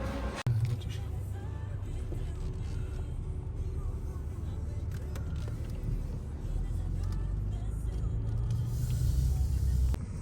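Steady low road rumble and engine hum fill the cabin of a car on its way to a Kaufland store in Germany, with a faint voice talking in the background.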